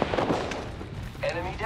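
Enemy gunfire in Apex Legends, a run of loud close shots and booms at the start, a lull, then another burst, with game voice callouts over it.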